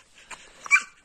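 A hunting dog at an animal shelter gives a short, high yip or bark, one brief sharp burst after faint whimpering, fairly close and alone without talk.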